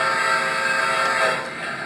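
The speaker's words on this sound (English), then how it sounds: "Let's do the whistle." Train whistle sound effect played from a universal remote controller, a loud sustained steam-style whistle with layered harmonic tones, holding for under two seconds before dropping slightly in volume.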